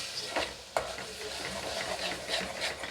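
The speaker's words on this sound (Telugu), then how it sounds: "సో ఇప్పుడైతే కొద్దిగా అలా కలుపుకోవాలి." A spoon stirs turmeric and salt into a bubbling mango dry fish curry in a pan, giving soft scraping strokes and a steady sizzle up close, with no voices.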